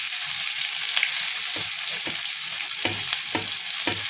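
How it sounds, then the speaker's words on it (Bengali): Chopped garlic and ginger frying in hot oil for a Bengali tadka, a steady loud sizzle with occasional spoon scrapes and taps against the pan, close and without talk. "এখানে আমি অল্প এক্সট্রাভাবে তড়কাটা দিচ্ছি, যেখানে আমি রসুন কুচি দিব"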